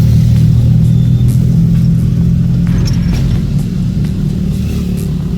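Steady road traffic rumbles past a crowded market street in Iquitos, Peru, with a loud, continuous engine drone and cars passing close by without pause.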